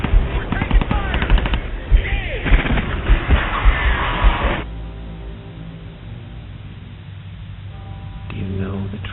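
Rapid automatic gunfire from the video game F.E.A.R., loud bursts of shots for several seconds followed by a quieter stretch of game ambience.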